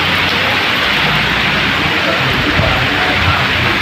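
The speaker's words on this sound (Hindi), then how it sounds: "देखिए कैसी बरसात हो रही है, मौसम ख़राब है, पानी बरस रहा है।" Heavy rain falls during bad weather, a dense, loud, constant hiss of water pouring down close by, with no break across the clip.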